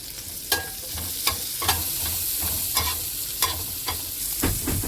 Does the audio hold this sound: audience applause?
no